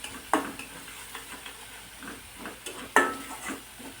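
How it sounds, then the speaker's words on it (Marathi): Green chillies and garlic frying for a fenugreek bhaji give a soft, low sizzle, broken by two sharp spatula clinks against the pan and a few lighter stirring scrapes. "मिरची लसूण परतलंय"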